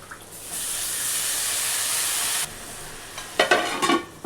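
Washed chopped vegetables dropped onto onions frying until pinkish in a pan, giving a loud steady sizzling hiss that cuts off halfway, followed by a few clattering stirs.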